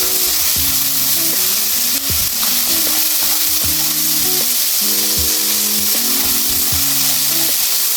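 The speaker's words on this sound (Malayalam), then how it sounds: "നമ്മുടെ ഇഞ്ചിയൊക്കെ നല്ല മൂത്തിട്ടുണ്ട്" Ginger and crushed garlic fry loudly in a pan as a steady, close sizzle with occasional stirring clatter, while a low melodic tone runs faintly underneath.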